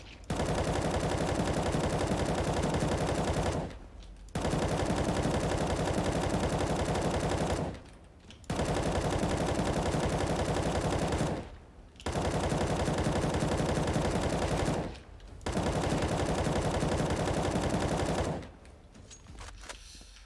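Automatic M4 rifle fire in an aim training session of a shooter video game such as Valorant or CS:GO, loud sustained bursts of several seconds each, separated by short pauses, with no talking.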